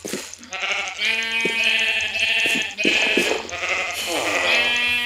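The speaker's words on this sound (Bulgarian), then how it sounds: "Сега да убия някой овце." Sheep in the Minecraft video game bleat repeatedly, loud and close, with several overlapping wavering bleats filling the scene one after another and no talk over them.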